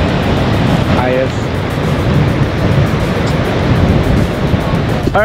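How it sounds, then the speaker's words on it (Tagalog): Strong, loud waves crash and roar continuously at Balagbag Falls in Real, Quezon, mixed with wind buffeting the microphone, and a person talks briefly over the water. "Lakas ng alon, no?"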